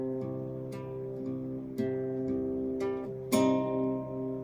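Acoustic guitar picks out an outro pattern in odd meter. Plucked open strings ring close and clear, with a strummed chord accent near the end.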